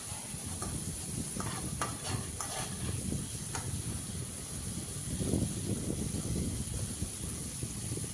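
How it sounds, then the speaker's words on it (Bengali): Spice paste with two bay leaves cooking in oil, a soft continuous sizzle under low rumbling stirring and scraping, with a few sharper crackles near the start. "তেজপাতা দেওয়ার পর আরও 1 মিনিটের মতো কষিয়ে নিচ্ছি।"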